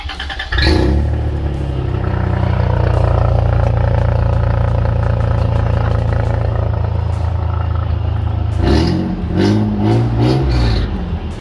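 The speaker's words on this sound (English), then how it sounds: "we'll do a startup with no exhaust and see how loud it is" An engine with no exhaust fitted cranks and fires, then runs loud and raw with a harsh unmuffled drone before revving briefly near the end.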